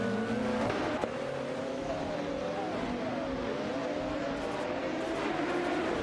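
In a racing video game, GT cars including a McLaren F1 GTR and a Toyota Sard MC8-R roar along the track. Engines rise and fall in pitch as they rev and shift, loud and continuous, with no speech.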